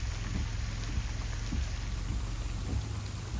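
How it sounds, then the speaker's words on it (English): Steady rain falls outdoors on a wet night in Japan, a dense, even patter with low rumbling underneath, close and continuous with no talking. "Must love the rain."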